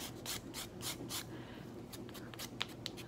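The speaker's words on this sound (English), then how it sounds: "I wanna make sure that you're using your sandpaper and rubbing on the wood too." Sandpaper rubs back and forth on a piece of wood in a kindergarten lesson, giving soft rhythmic scratchy strokes, several quick passes close by, fairly quiet.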